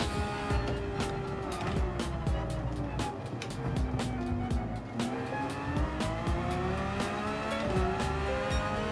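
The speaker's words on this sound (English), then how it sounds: "And now we got a downshift" A race car in Gran Turismo 7 drives hard around a track, its engine loud and continuous with rising and falling pitch through gear changes, a downshift blip among them, and tire noise underneath.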